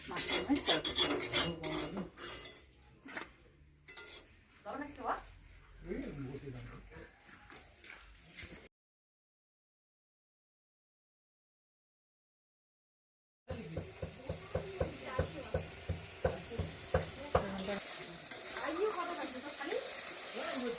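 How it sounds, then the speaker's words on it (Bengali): Metal utensil scraping and clinking in a pan as spices sizzle while being stir-fried, with a voice talking over it; the sound drops out for several seconds midway, then resumes. "এখানে এই যে মশলা দিয়ে কষাচ্ছি"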